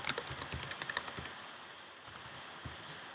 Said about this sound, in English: so I'm typing my name.